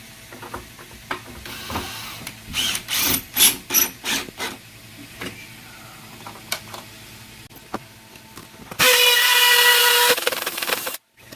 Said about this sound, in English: then you just put one of your screws in that holds it in there